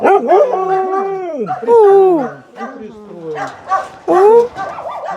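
Dogs at a municipal animal shelter in Pavlohrad bark, howl and whimper loudly and close, in repeated drawn-out bursts, with people talking among them.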